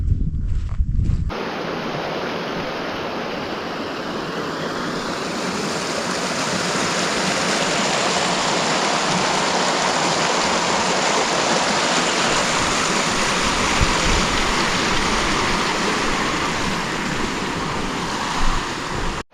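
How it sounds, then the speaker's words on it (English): A small creek along the Pacific Crest Trail on a sunny day, its water rushing steadily and loudly close by as a continuous broadband wash with no voices over it. "Got a little creek crossing here."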